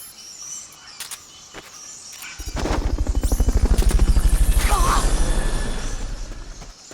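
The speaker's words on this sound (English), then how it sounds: "Fulton recovery subject confirmed onboard helicopter." A helicopter in the Metal Gear Solid Peace Walker video game starts up after a few quiet seconds, its rotor beating in a fast, regular chop that swells loud and close, then eases slightly.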